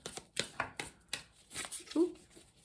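Tarot cards shuffled by hand in a series of crisp, close riffling bursts, with a short low murmur near the end and light room noise between shuffles.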